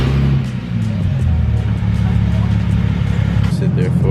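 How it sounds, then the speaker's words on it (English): A car engine runs steadily nearby with a deep rumbling idle and slight revving, a brief change in tone near the end, and a voice talking over it. "let's start the car up"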